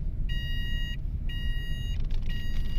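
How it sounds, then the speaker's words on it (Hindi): A car's seat belt warning chime sounds three times in steady repeating bursts, each a clear bright tone held nearly a second, over a low engine rumble inside the vehicle. "आपने सीट बेल्ट नहीं लगाओगे तो ये बीप सुनाई देती है"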